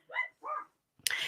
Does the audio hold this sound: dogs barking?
yes